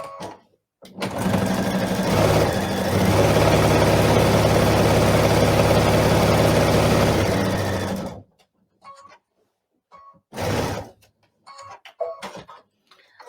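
A sewing machine stitches a fabric seam while small quilt pieces are joined, running steadily and loudly for about seven seconds before stopping, followed by brief quiet handling noises.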